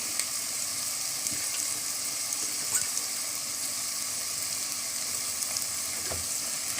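Large onions sautéing in a pan with fresh mint and coriander leaves, a steady soft sizzle with occasional light stirring clicks, close and alone.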